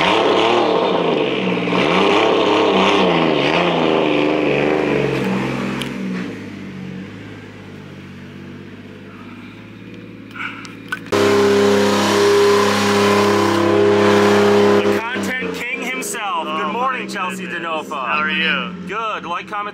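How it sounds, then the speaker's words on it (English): An E36 car's engine revving loudly at a race track, rising and falling pitch sweeps with a sustained roaring stretch, mixed with people talking nearby. "Damn, Jimmy's car is so loud."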